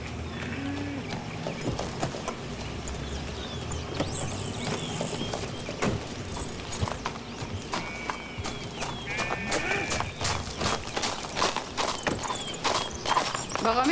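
A horse's hooves clip-clop repeatedly in an uneven rhythm on a rural property, close and clear, while people talk over the hoofbeats.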